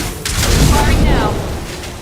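A heavy boom of weapon fire in the sci-fi shooter Mass Effect 2, one loud blast with a rolling low tail, overlapped by a voice speaking during combat.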